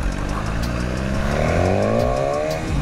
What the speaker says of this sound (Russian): Это квикшифтер и это его выхлоп.